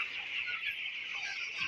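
Broiler chickens in a poultry shed give a brief run of soft, overlapping clucks, fairly quiet and close, with no talking.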